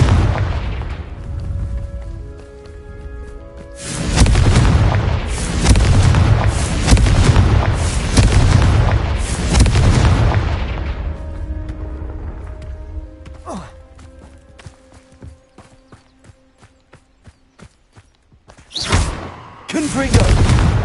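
Confringo spell explosions go off in the Hogwarts Legacy video game: loud, booming blasts rolling in quick bursts, easing into sparse crackles and pops, then one more sharp blast near the end.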